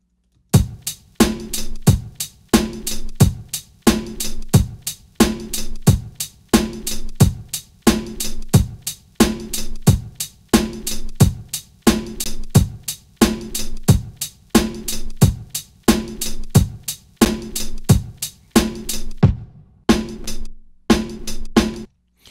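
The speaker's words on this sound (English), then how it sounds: "Just a pretty basic hip-hop beat using just these 3 sounds." A basic hip-hop drum beat loops steadily, with kick, snare and hi-hat in a tight repeating pattern, ending on a short snare-only break.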